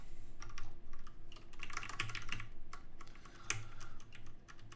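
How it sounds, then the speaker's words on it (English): Typing on a loud mechanical keyboard close by, with irregular bursts of sharp clacking keystrokes, short pauses between runs and a faint hum in the background. "kind of loud mechanical keyboard."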